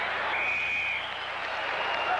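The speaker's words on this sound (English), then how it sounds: "And even this crowd is applauding the Chicago Bear" A football stadium crowd at a 1981 Chicago Bears at San Francisco game applauds a catch, a steady wash of clapping and crowd noise under a commentator's voice.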